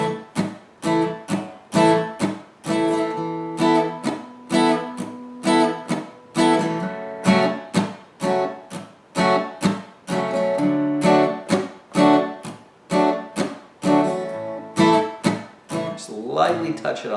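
Acoustic guitar strumming the chords of a song, with a light bass note touched on each first beat; a steady, evenly spaced rhythmic pattern of bright strums played alone, close and clear.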